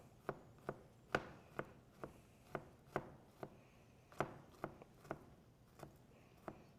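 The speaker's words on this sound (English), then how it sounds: "We're gonna mince it up pretty fine." A knife finely mincing garlic on a cutting board, crisp rhythmic chops repeating about twice a second, close and clear with no talking.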